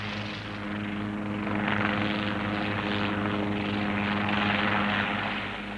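A helicopter flies over the arid island of Syra, its engine and rotor making a steady, loud droning buzz with a low pulsing beat that swells slightly and holds throughout, with no voices.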